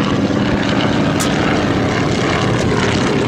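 A PT-19 primary trainer airplane flies past at a World War II weekend air show, its propeller engine giving a loud, steady, broadband drone that holds throughout.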